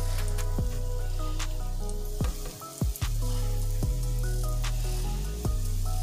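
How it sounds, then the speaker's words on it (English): Steady, close-up sizzling of oyster mushrooms frying in olive oil over medium-low heat, with a few brief clatters and pushes of a utensil in the pan. "You can hear the sizzle."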